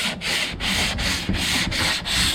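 TotalBoat Total Fair filler on a power catamaran build is hand sanded in quick back-and-forth strokes, each a close, raspy scrub with a brief gap between them, about six in a row.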